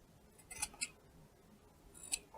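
Scissors snip through fabric seam allowance corners, trimming them into triangles while sewing a hat: three crisp, close cuts, two in quick succession and a third after a pause, with no talking.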